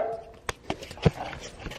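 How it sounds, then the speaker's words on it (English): A dog gives a few short, sharp barks at moderate distance, spaced irregularly against a quiet background. "He's barking."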